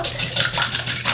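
Three fresh eggs whisked briskly in a bowl in a home kitchen, a quick rhythmic clatter of utensil against the bowl repeating in short bursts, close and fairly loud.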